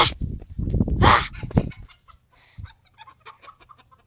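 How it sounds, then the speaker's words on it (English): Chickens cluck loudly and close in the first half, then softer, scattered clucks and peeps follow more faintly over a quiet background. "Dang, there's chickens everywhere."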